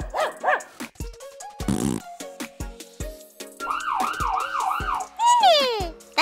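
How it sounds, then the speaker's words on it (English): Cartoon ambulance siren from a children's car-rescue song, a bright wailing wee-oo tone rising and falling in several sweeps, mixed with a dog's barks and cartoon sound effects, loud and close. "The ambulance goes wee-oo, wee-oo!"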